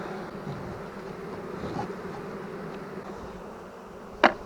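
Honey bees at a hive while a caught swarm is united with a colony, giving a steady close buzzing drone that runs throughout, with one sharp knock near the end.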